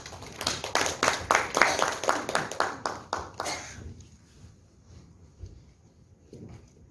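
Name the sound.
applause welcoming the speaker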